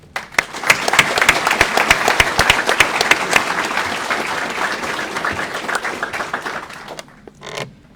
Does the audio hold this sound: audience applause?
yes